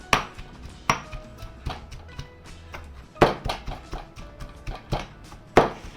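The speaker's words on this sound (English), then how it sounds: "You just want to mash it up until the ginger is in smaller pieces" Ginger pounded into scallion salt gives a series of sharp, uneven taps and mashing knocks, close and fairly quiet, with short pauses between bursts.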